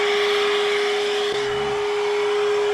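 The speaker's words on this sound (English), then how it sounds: "So let me turn the vacuum on." A vacuum cleaner roars loud and close with a steady hum, running continuously, in a garage setting during an oil change challenge.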